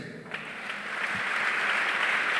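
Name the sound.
church congregation applauding, acclaiming Jesus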